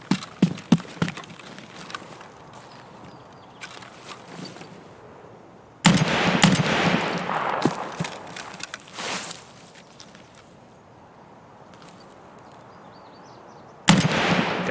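Gunfire in Escape from Tarkov, with sharp bursts of shots and echoing cracks in clusters separated by quieter stretches of in-game ambience.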